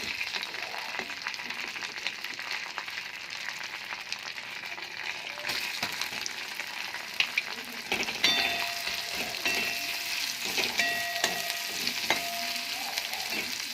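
Chopped onion sizzles in hot fish-frying oil with whole spices like cinnamon, cloves and cardamom, a steady close crackle with occasional stirring clatter and brighter spits toward the end.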